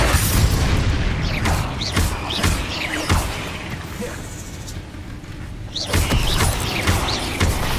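Repeated Bombarda spell blasts in Hogwarts Legacy, a fantasy video game, booming loud and close in a dense rolling series over constant battle noise, with a few sharper cracks breaking through.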